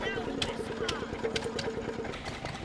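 A small Lister V stationary engine runs at a country show with a steady, even chugging at moderate volume, while people talk nearby.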